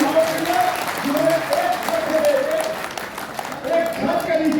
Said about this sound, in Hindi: ताली बजनी चाहिए इन सभी महानुभावों के लिए